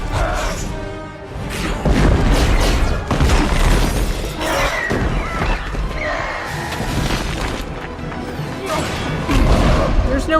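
Hulk smashes things in the Marvel's Avengers video game: a dense run of loud crashes, shattering debris and heavy thuds that comes in repeated bursts with whooshing impacts, close and overlapping.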